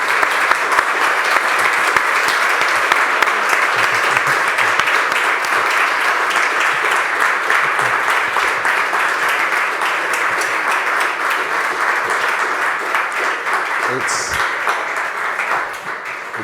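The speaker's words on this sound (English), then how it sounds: "I think he deserves a big clap." A room full of audience members applauds at length, a dense, even wash of clapping held at steady strength for the whole stretch, tapering only slightly toward the close.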